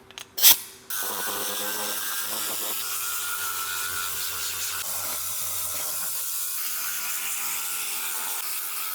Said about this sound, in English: we can just start by blowing it out